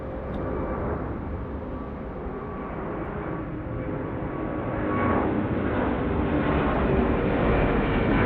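Delta Airbus A350 taking off from runway 27R at Atlanta's airport, a loud, steady jet roar that swells slightly as the aircraft accelerates, with no voices.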